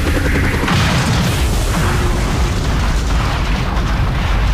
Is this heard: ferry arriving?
no